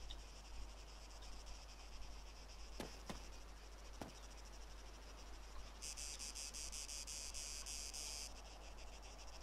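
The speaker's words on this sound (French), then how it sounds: "On entend les cigales." Cicadas chirp in the countryside of the Altis Life video game, a steady quiet insect drone with a louder buzzing burst near the end and a couple of faint clicks earlier.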